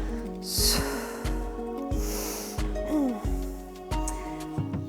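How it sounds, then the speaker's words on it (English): Short, forceful breaths push out through the nose in quick bursts, close and fairly quiet, with faint music underneath. "If you need to do a power breath, it sounds like this."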